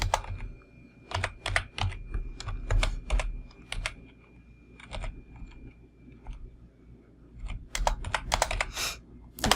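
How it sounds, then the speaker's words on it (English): Computer keyboard keys tapped in short bursts while entering map coordinates into a search field, crisp close clicks arriving in irregular clusters with pauses between, no voices. "I could type them in here."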